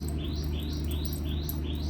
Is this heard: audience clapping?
no